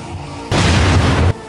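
A grenade blows up in a film scene: a single loud, heavy blast that holds for just under a second as a broad, dense roar and then cuts off sharply, with quieter soundtrack before and after.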